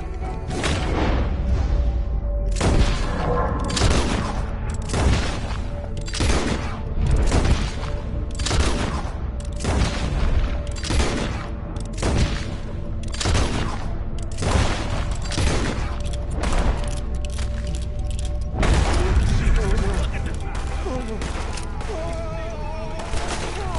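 Repeated gunfire from Red Dead Redemption 2 during a night trip into the swamps, with sharp shots and bursts cracking steadily over roughly twenty seconds amid loud continuous action noise.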